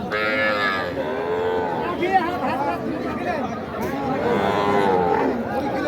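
A Sahiwal calf moos repeatedly amid a busy cattle market crowd in Khulna, with people bargaining close by and a general hubbub of voices throughout.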